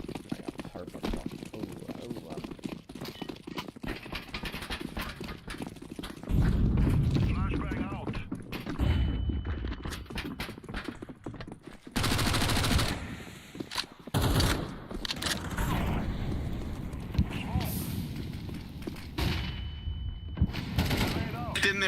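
Shotgun fire in a video game: repeated loud, booming blasts and rapid bursts of gunfire throughout a long firefight, with someone talking over the shooting.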